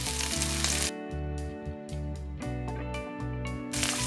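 Onion strips cut as for salad and finely chopped green onion sizzle in a pot, a bright hiss audible at the start and end beneath loud, continuous tonal music.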